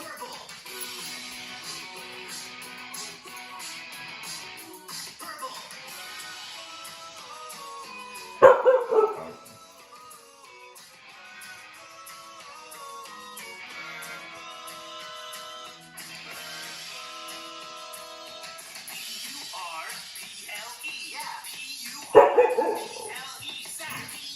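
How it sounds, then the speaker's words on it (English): A pet dog barks and howls in two loud bursts while people sing a repetitive children's-style song about the colour purple, with backing music running throughout. "You singing with us, Gus? You singing?"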